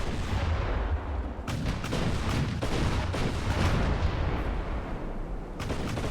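Battleship guns firing in the naval combat game Ultimate Admiral: Dreadnoughts, a dense, continuous roar of booming artillery with heavy low rumble and sharper bursts landing throughout, loud and sustained with no talking.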